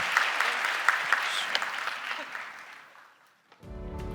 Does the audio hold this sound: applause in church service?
yes